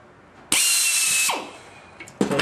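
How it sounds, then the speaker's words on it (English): A power drill whirs loudly at high speed for under a second, winds down, then a short burst of drilling follows, boring center ribs for a Bearhawk aircraft build. "I'm going to drill this one"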